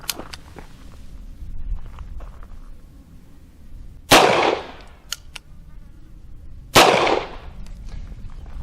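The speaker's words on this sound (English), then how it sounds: "All right, try a couple rounds of 45." Two loud, sharp gunshots from a Bond Arms Texas Defender derringer firing .45 Colt rounds, a few seconds apart outdoors, each with a short echoing tail over a low background rumble.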